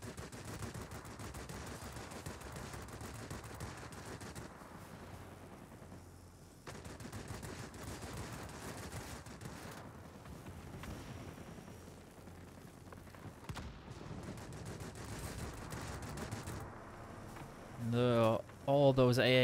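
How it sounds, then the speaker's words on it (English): Anti-aircraft guns firing in the World of Warships video game, a steady, dense patter of distant shots with muffled booms running under continuous talking, dipping briefly and then resuming. "All those AA guns just doing immense amounts of damage again to those bomb flights"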